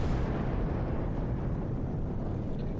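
A torpedo detonates in the space game Star Trek Online, a loud, dense rumbling explosion that roars steadily for a few seconds without fading.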